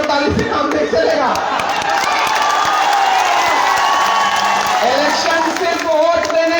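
Loud crowd noise at an outdoor Congress election rally in Chakulia, with steady clapping and cheering sustained throughout, broad and continuous rather than individual claps.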